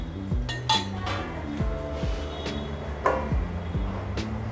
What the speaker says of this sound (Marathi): आपण 3-4 मिनटं फक्त झाकण देऊन ठेवूया।